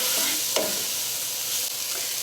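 Ginger and onion fry in a pan with a continuous bright hiss, and a spoon stirs them with a scrape near the start. The sizzle stays close and steady throughout.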